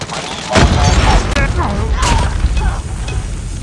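Gunfire in the mobile shooter Call of Duty Mobile: loud, dense bursts of shots and mechanical clatter rolling on continuously for a few seconds, with a game voice line mixed in.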